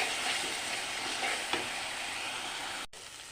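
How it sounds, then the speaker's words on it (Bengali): Masala with yogurt for mutton curry sizzles steadily in a pan, with a soft scrape of stirring mid-way and a brief dip near the end. "তিন চামচের মতো দই ফিটিয়ে রেখেছি এখন দিয়ে দেব আবার ভালোভাবে কষে নেব"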